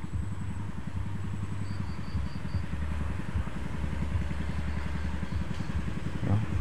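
Boat engine running steadily in a wild forest setting, a low throbbing drone with a rapid regular pulse, moderately distant and unbroken, with no speech.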